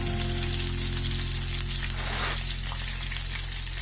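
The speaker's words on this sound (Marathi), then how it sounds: "आता यामध्ये एक एक करून मसाला भरलेली वांगी अलगदपणे ठेवूया. दोन्ही बाजूंनी आलटून पलटून 10 मिनिटं परतून घ्यायचे आहेत." Masala-stuffed eggplants fry in a pan for village-style bharli vangi, giving a steady, close hiss of sizzling oil that carries on without a break, with a low hum underneath.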